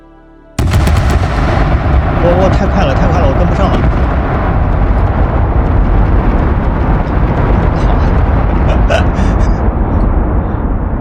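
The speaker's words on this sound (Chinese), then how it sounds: "它虽然卡了，但是我还是能听到它的爆炸声。" Massive explosive detonations in the game Astroneer form a loud, continuous roaring rumble of blasts after a sudden onset, with someone talking over it.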